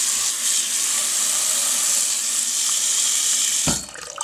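Tap water runs steadily into a pot being filled about halfway to boil an artichoke, a continuous hissing splash that cuts off near the end.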